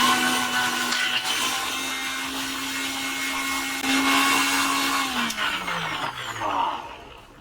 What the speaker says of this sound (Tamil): ஓகே, இப்போ நொச்சி இலையை அரைச்சிடலாம்.